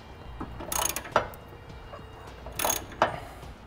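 Socket ratchet tightening the mounting bolts of a Draw-Tite Max-Frame trailer hitch receiver on a 2013 vehicle, heard as two bursts of rapid clicking about two seconds apart, each ending in a sharp tick, fairly close.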